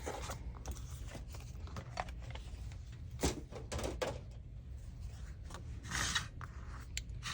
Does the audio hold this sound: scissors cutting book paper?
yes